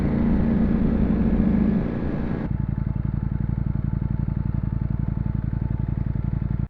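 A Ducati Panigale V4 engine idles up close, first a dense loud rumble, then a steady, rapid lumpy throb pulsing evenly with no voices.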